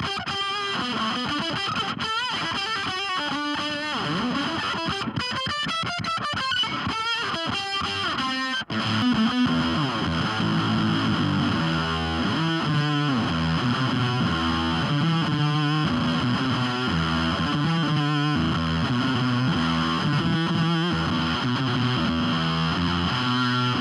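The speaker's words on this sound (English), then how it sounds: "That's with the Octafuzz setting and everything at noon." Electric guitar run through a Fulltone OF-2 Octafuzz pedal, all knobs at noon with the guitar volume rolled back, plays loud, thick fuzzed notes and chords continuously with no talking.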